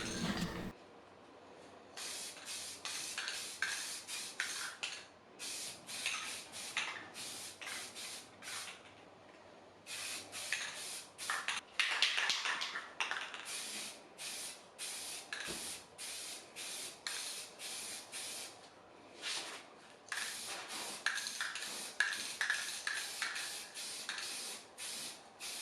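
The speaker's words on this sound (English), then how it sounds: "let's spray on a second coat" Rust-Oleum Chalked spray paint applied to a piece of furniture as a second coat: many rapid, close hissing bursts of varying length in steady succession, separated by brief pauses.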